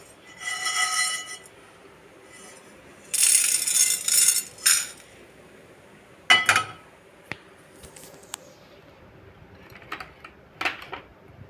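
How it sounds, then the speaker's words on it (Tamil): Roasted black pepper and cumin for Mysore rasam scraped and tipped from a pan onto a plate, with several bursts of rattling, clinking grains and metal, separated by quieter pauses and a few sharp taps. "இப்போ இதை ஒரு ஏனத்தில் பிளேட்டில் மாற்றிக்கணும்"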